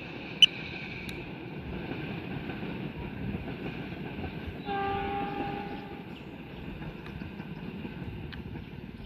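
A train rumbles past at a distance while circling a hill on a descent near Lebak Jero station, with a steady low roar, a tone swelling briefly midway, and a sharp click near the start.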